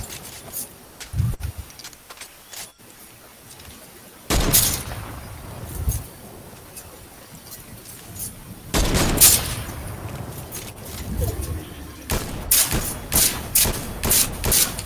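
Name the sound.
gunfire in the Fortnite video game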